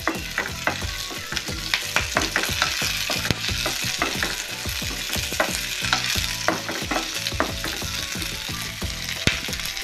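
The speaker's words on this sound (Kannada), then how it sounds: "ಜಾಸ್ತಿ ನಾವು ಫ್ರೈ ಮಾಡೋದು ಬೇಡ ಈರುಳ್ಳಿ ಸ್ಮೆಲ್ ಎಲ್ಲ ಹೋಗ್ಲಿ ಅಷ್ಟೇ" Onions sizzle and fry in a pan for masala puri while a utensil stirs and scrapes them in quick, repeated strokes, close and continuous with no voices.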